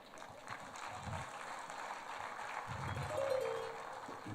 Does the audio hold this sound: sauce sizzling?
no